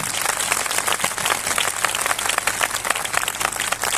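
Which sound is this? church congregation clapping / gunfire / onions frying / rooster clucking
church congregation clapping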